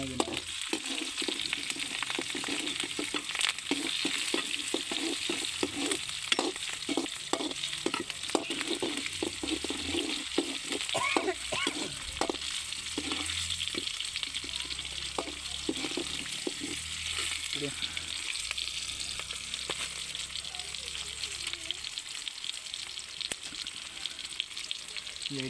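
Kurma curry for parotta is stirred in a hot pan, with a continuous bubbling sizzle and repeated scraping strokes of a spoon, close and steady over a long stretch.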